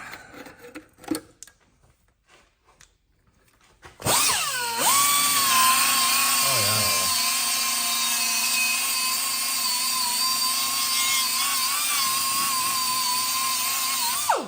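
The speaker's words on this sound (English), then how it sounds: "So what we're going to be using is one of these R-Lock 3M buffing discs." A 3M Roloc buffing disc on a power tool buffs metal during a manual transmission install on a Ford Crown Vic, spinning up to a loud steady high whine that holds unbroken for about ten seconds after a few quieter knocks.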